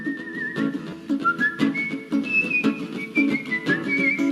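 Someone whistles a little melodic tune during a stage show, clear and close, in short phrases with small pauses between them.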